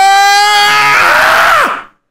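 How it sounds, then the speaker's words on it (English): Baby letting out a long, loud scream after a burp, sounding like a grown man's harsh yell, one sustained cry that breaks off and drops away abruptly. "Imagine your baby does that, just burps and screams like a 28-year-old man"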